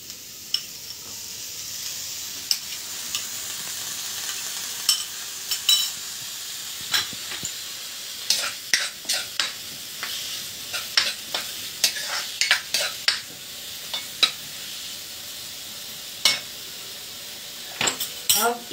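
Capsicum sizzling in a home kitchen pan while a utensil stirs and scrapes it, with repeated sharp clinks and scrapes over a steady close frying hiss.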